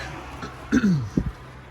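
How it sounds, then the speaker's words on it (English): A single throat clearing, two short rough bursts close to the mic, in an otherwise quiet setting. "I need to clear my throat a bit."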